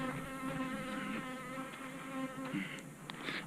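Bees from an opened hive of about 60,000 buzz in a steady, droning hum close by, the tone wavering as insects move around, with a few sharper whines near the end.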